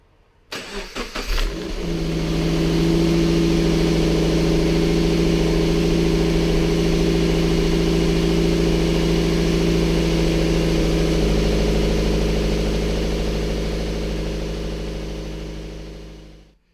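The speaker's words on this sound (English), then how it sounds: "we're just about to start the car, and this is the paper filter in at the moment." A Toyota 86 GTS fitted with a paper air filter cranks briefly, catches, and settles into a steady, close idle hum that holds for over ten seconds before fading slightly.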